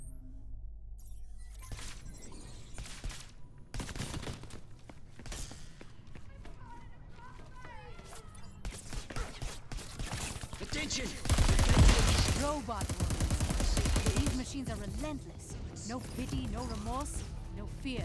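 Sci-fi plasma rifle fire in the video game Crackdown 3, rapid bursts of shots and impact thuds building to a loud cluster near the middle, with a voice talking throughout.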